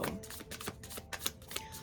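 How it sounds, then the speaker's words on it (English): A tarot deck is shuffled in a quiet room, giving a close, soft series of papery riffles and slaps in an irregular rhythm with no voices. "we've got tarot deck shuffling"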